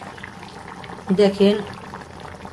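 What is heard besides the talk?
winter vegetable curry with shrimp simmering in the pot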